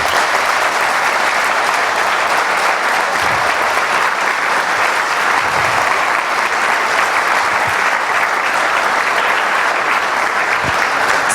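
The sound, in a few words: audience applause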